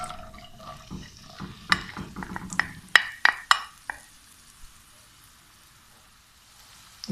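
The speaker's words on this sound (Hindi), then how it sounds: "थोड़ा सा हम इसको भून लेते हैं।" Onions frying in hot oil in a kadhai: soft crackling and sizzling, with clinks and scrapes of stirring in the middle, fading to a faint hiss.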